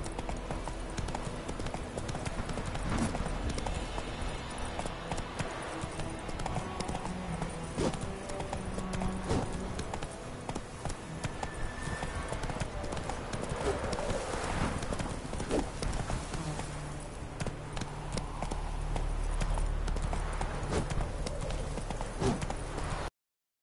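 A horse gallops in The Witcher 3 video game, its hoofbeats a rapid, continuous clip-clop throughout, with occasional game sounds mixed in.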